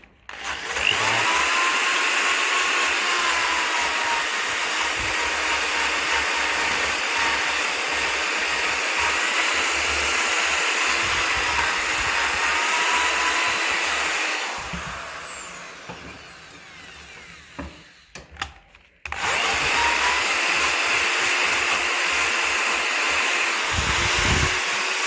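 A high-pitched electric drill with a wire brush whines continuously for a long stretch, cleaning a tractor's battery cable earth connection, stops briefly amid some rattling and clicks, then starts running again.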